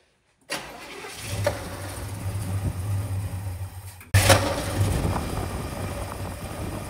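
A 1971 Chevelle with a Summit carburetor cranks steadily for several seconds, pauses, then cranks again and catches into a louder, rougher engine run close by.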